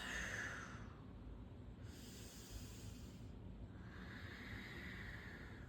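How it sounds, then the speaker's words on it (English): Slow, steady Ujjayi breathing in a yoga class: long, soft, hissing breaths drawn through a narrowed throat, close and even, repeating in unhurried cycles with no talk. "Find that Ujjayi breath for 3 breaths."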